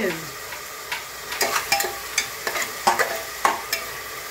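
Chicken and vegetable pulao fries and sizzles in a pan with sugar just added, while a spoon scrapes and stirs in an irregular rhythm of close, sharp clatters over a steady hiss.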